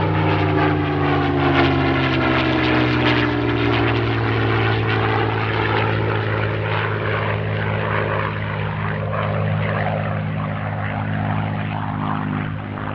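A Supermarine Spitfire in Russian colours flies at the Midlands Air Festival airshow, its propeller engine a loud, steady drone that holds throughout with a slowly shifting pitch as it passes, with no talk.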